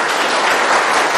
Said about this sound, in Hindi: तालियां बजेंगी